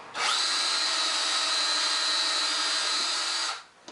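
A power drill bores a chase hole into oak with a larger bit, one continuous close, high whine that holds steady for about three seconds before spinning down.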